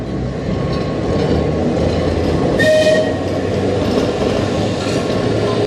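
A Manx Electric Railway tram on the Isle of Man rumbles steadily along the track with a continuous roar, and a brief higher-pitched whistle or squeal rises midway before the running noise continues.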